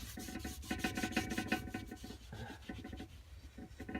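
A rag wipes down a vintage machinist's vise being refurbished, a quick rhythmic rasping rub repeated over and over, close and faint, with no voices.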